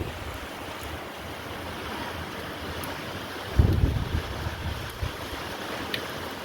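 A steady wash of rain and wind hisses throughout, with a sudden low rumbling gust buffeting the microphone partway through.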